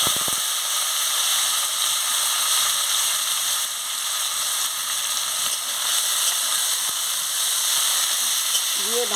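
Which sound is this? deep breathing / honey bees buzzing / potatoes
potatoes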